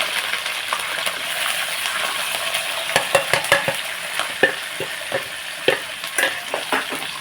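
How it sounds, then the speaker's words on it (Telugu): Onions and green chillies frying and stirred in a pan for upma, a constant bright sizzle with a quick run of spoon scrapes and metallic clinks against the pan, close up and without speech. "ఇప్పుడు మనం దీంట్లో ఉల్లిపాయలు పచ్చిమిరాలు అన్నీ కూడా వేసేస్తాం"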